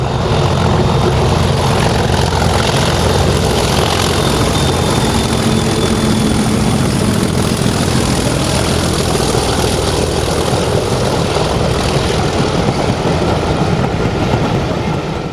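A pair of diesel locomotives haul a charter train up the steep Lickey incline, a loud continuous engine roar with heavy low rumble and steady drone throughout, no voices.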